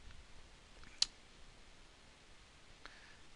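One crisp computer mouse click saves a file, heard close and brief against a quiet background, followed by a fainter second tick.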